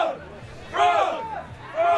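A crowd at an ultimate frisbee match in Belgium shouts and cheers from the sideline, with overlapping voices rising in bursts and a chant-like surge near the middle.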